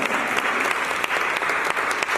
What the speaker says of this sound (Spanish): Antes, un aplauso, por favor.